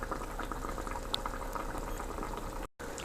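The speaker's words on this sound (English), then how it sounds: "But let it boil a little more." A beef and potato stew bubbles steadily in a pot, a close, continuous low burble and pop of simmering gravy with no talk, briefly cut by a short gap near the end.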